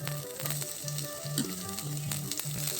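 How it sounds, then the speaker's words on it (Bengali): Chopped onion sizzling in hot mustard oil, a steady close frying hiss with small crackles and light pops, no voices. "সরিষার তেল দিয়ে নিলাম আমরা এখানে এখন পেঁয়াজ কুচিটা ছেড়ে দিচ্ছি"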